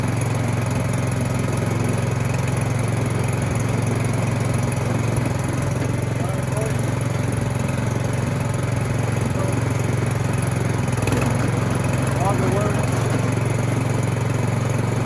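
A Craftsman MTD snowblower's small gasoline engine runs steadily with the choke off, a loud, even drone close by that holds its pitch from start to finish.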